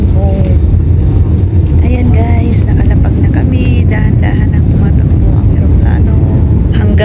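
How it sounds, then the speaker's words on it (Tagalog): A landed passenger airplane taxis slowly, its engines giving a loud, steady roar with wind buffeting and people talking over it. "nakalapag na kami, dahan-dahan ang tumatakbo ang eroplano"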